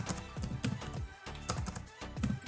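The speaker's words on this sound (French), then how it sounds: "J'espère que ça tape pas trop fort dans l'ordinateur quand je tape au clavier." Typing on a computer keyboard: rapid, fairly quiet clusters of close clicking keystrokes in short irregular bursts, with no speech.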